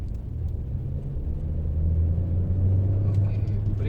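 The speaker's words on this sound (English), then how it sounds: "Let me shift it to second." Hyundai Alcazar 2.0L petrol manual SUV shifting into second gear, a steady low engine rumble that swells slightly as it pulls, heard from inside the cabin.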